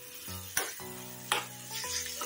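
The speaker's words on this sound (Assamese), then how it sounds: "এতিয়া সামান্য অলপ ভাজি লৈ আছো" Hidol (fermented fish) paste frying in a pan, a soft steady sizzle with a couple of sharp stirring scrapes, close and fairly quiet beneath a faint tonal hum.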